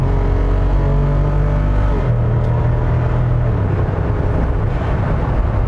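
A 2025 Jeep Wrangler Rubicon 392 V8 engine roars steadily as it accelerates with the active exhaust closed, its deep pitch shifting upward mid-way, loud and close throughout.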